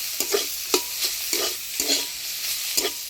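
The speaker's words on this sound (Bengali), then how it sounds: "শাকটা আমি ভালোভাবে ভাজে নিলাম" Tender bottle gourd leaves fry in a hot pan until their juices dry out, with a spatula scraping and stirring in quick repeated strokes over a steady close sizzle and no voices.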